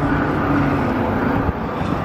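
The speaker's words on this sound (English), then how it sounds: "there's so much noise outside there on the highway" Highway traffic outside at night makes a steady, broad roar that stays loud and continuous throughout, with no distinct vehicles standing out and no talking.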